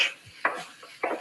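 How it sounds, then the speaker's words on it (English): Two medium onions being chopped into medium dice with a knife on a cutting board, giving three sharp, evenly spaced knocks close up with quiet scraping between them. "I'm gonna go ahead and start chopping some onions."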